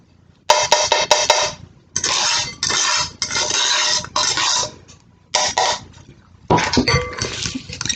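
Melted butter and sugar being beaten in a bowl for an apricot tart, close bursts of rapid whisk scraping and clinking against the bowl, separated by short pauses, with no talking.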